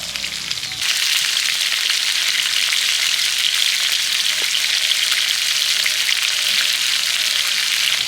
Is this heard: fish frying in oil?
yes